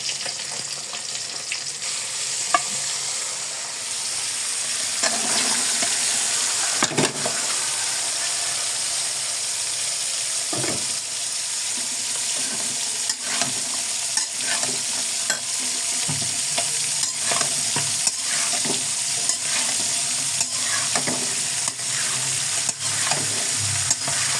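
Green beans, cauliflower, carrot and potato fry in a pan with a steady sizzle while a utensil stirs and scrapes them in repeated close strokes, with no voices.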